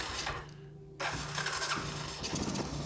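An 1986 Honda Fourtrax ATV with a freshly rebuilt carburetor, likely flooded, cranks briefly, pauses, then catches and runs at a steady mid-pitched idle, close and fairly quiet with no voices.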